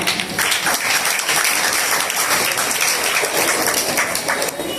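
Loud, sustained applause from a school audience for the teachers and headmaster at a scholarship felicitation ceremony, a dense crowd clapping steadily throughout with no pauses.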